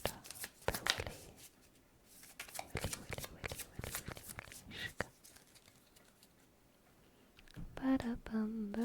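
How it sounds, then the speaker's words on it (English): Tarot cards being shuffled by hand, a quick run of crisp riffling snaps and soft patter close by, trailing off into quiet handling, with a voice humming briefly near the end. "I forgot to shuffle."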